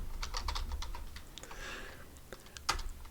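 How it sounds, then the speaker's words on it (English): Computer keyboard keys clatter in quick irregular bursts while someone types code, close and fairly quiet, with a short pause in the middle and one sharper keystroke near the end. "If I can type."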